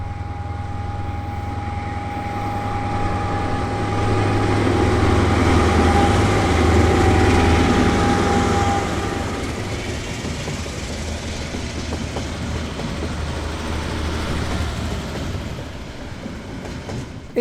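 Locomotives hauling a train departing New Plymouth, New Zealand, a continuous heavy rumble with a low diesel drone and steady rail noise, swelling louder midway as they pass, with no voices.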